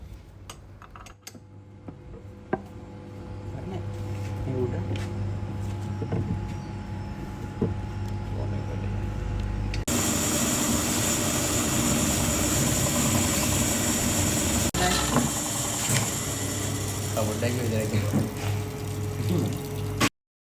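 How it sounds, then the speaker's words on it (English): A metal bandsaw cuts the square corners off a steel blank for a large gear wheel in a machine shop, a steady grinding whir that grows noticeably louder and harsher midway and runs continuously to the end. "Now we cut off the square corners by our bandsaw."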